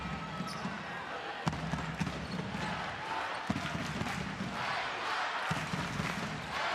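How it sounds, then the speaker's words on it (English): Basketball arena crowd in Farum at a Denmark versus Belgium EuroBasket qualifier, a dense roaring wash of fans with sharp ball bounces and thuds cutting through, building in intensity. "And the crowd get louder and louder and louder here in Farum."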